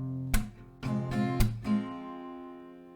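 Slow acoustic guitar strumming of a Poppy Playtime song, played at reduced tempo: about four distinct strokes or claps ring out in a down-clap-down-up pattern, each chord sustaining and fading near and clear with no talking.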